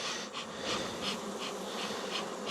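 Honeybees buzz around an open hive during a colony check for a queen, a dense steady drone with individual bees passing close in brief louder swells.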